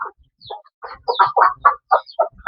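A hen clucking after laying an extra-large egg, a run of about ten short, close clucks that quicken and grow louder in the middle, with a few faint higher chirps between them and no talking.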